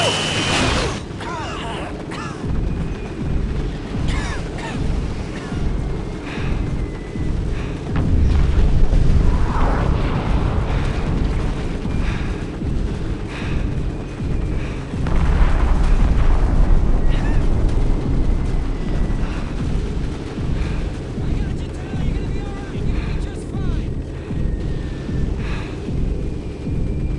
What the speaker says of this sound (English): Firing rockets!